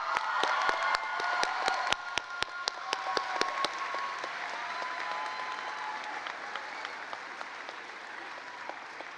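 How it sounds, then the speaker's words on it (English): Graduates and families at a career and technical high school graduation ceremony break into sustained applause, beginning with sharp, distinct claps close by and swelling into a dense, steady wash of clapping from a large crowd. "please honor them with a big round of applause at this time"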